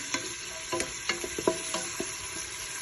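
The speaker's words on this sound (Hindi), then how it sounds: "अब हमने इसमें अदरक और लहसुन का पेस्ट डाल देना है। इसको हमने लो फ्लेम के ऊपर गोल्डन ब्राउन करना है।" Ginger-garlic paste fries in hot oil over a low flame, a soft steady sizzle broken by several sharp clinks and scrapes of a spoon stirring the pan, close by with no voices.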